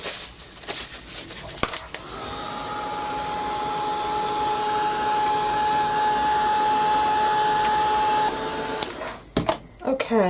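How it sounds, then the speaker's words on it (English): A heat gun blows hot air in a steady, close whooshing hum with a thin whine, running about seven seconds between handling clatter and brief speech. "So I'll give that a quick blast with the heat gun."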